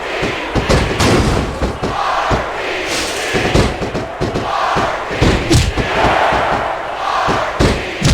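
Loud, continuous capacity arena crowd from the WWE SmackDown! vs. Raw 2006 wrestling video game, a steady roar of cheering and shouting with scattered thuds and slams throughout.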